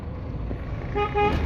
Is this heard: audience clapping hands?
no